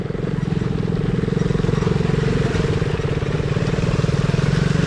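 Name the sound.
motorcycle riding through mud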